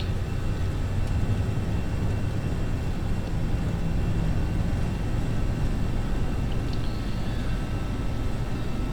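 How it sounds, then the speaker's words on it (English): Airbus A320 jet engines roar at takeoff thrust in a flight simulator game, a steady dense broadband rumble and hiss holding level throughout, with no talk over it. "takeoff, go around, thrust set, and at the 120, 130 we'll depart"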